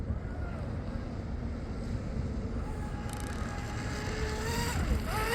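An ARTR P Limited Spec H26 Hydro RC boat running at full throttle, its high motor whine rising and falling through a pass over water, under steady wind noise on the microphone.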